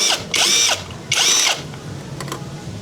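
An impact wrench works on the stock muffler bolts of a Yamaha NMAX scooter: two loud, sustained rattling bursts of roughly half a second each, close by, followed by a couple of faint clicks and low background noise.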